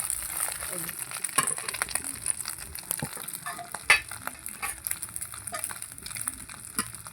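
An omelette fries in a pan with a faint, steady hiss and light crackle, broken by scattered clicks and soft scraping; no voices are heard.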